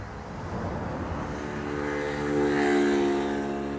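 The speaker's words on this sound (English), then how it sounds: "here comes a motorbike" A motorbike approaches along a roadside beside a bluebell wood, its engine note rising and swelling to a peak near the end as it draws close; no talk.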